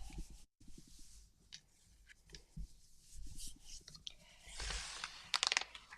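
Paper is rubbed by hand onto a gel printing plate, producing soft close scuffing and rustling strokes that swell into a louder, denser rub toward the end.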